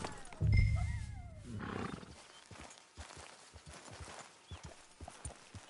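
Rhythmic clip-clop of horse hooves trotting in a video game, steady and fairly close, after a loud low rumble and brief whinny-like tones at the start.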